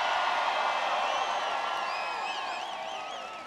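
Dense rally crowd noise from a Barack Obama campaign event in Fort Collins, Colorado, welcoming Senator Ken Salazar: steady, broad roar of cheering with scattered whoops rising over it, loud and sustained, fading slightly toward the end.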